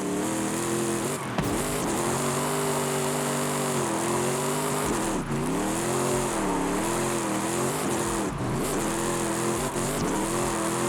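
Cadillac CTS-V engine in Forza Horizon 5 driving downhill, a loud sustained drone with rising and falling revs through gear changes, steady and close with no talking.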